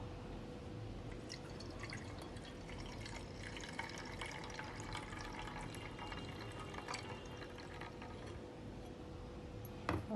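Steady trickling and dripping water runs throughout as water drains from soaked sago, with faint clinks and small mechanical handling noises in the background.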